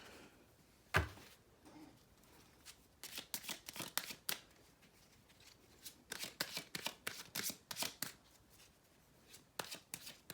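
An oracle card deck is shuffled in bursts of crisp riffling and flicking, first a single sharp tap, then repeated quick clusters of card slaps close up, with no talk over them.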